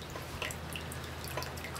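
Wort from a mash tun trickles and drips steadily into a container during vorlauf for a Falconer's Flight IPA homebrew, a faint continuous liquid splatter with no voices.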